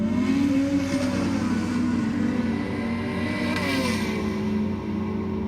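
Drag racing at Sydney Dragway, a Monaro against a King 2 litre, with loud, sustained engine roar and rising revving tones through the run, constant and close, no voices.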